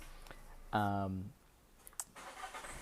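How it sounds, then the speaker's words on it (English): A car engine cranks once in a short, loud burst without catching, then drops away to quiet, leaving faint clicks and small knocks behind. "this guy could not get his car started to save his life"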